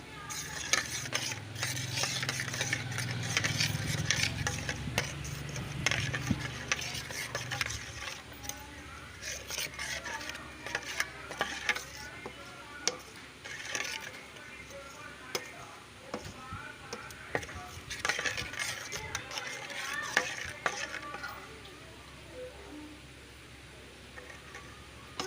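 Spices such as black pepper, fenugreek and chicken masala being stirred into a mix for chicken korma, with continuous soft scraping and clicking of stirring, faint and close, plus a low rumble early on.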